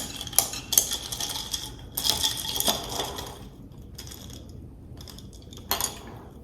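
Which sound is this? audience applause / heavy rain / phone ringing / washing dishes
washing dishes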